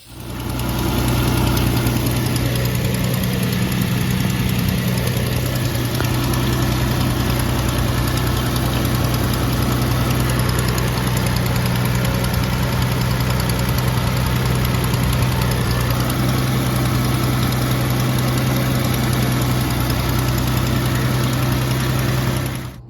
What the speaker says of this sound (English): I can kind of start the engine and run it for about 5 minutes